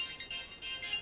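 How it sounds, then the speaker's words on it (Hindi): A mobile phone's ringtone chimes in a short, bright repeating pattern, fairly quiet and a little distant, with no one speaking over it. "तुम्हारा फोन बज रहा है।"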